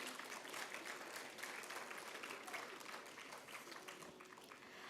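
Applause from an audience at a Bharatanatyam dance recital, dense continuous clapping heard faintly at a distance, holding steady throughout.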